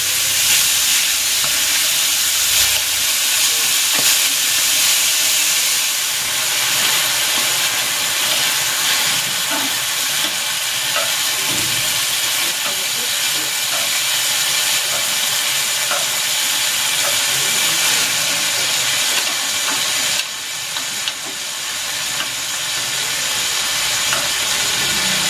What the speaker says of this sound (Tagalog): Ipan-grill ko muna itong squid. Ilagay na rin natin itong mga ulo.